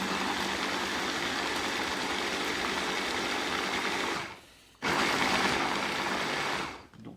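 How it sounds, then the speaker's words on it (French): Blender on a cooking counter pulsing a chicken and parmesan filling for mini cannelloni: two long, loud, steady whirring bursts split by a short pause, with no talking. "Allez, on va mixer tout ça pour avoir quelque chose d'homogène et de lisse. Donc quelques à-coups et on y va."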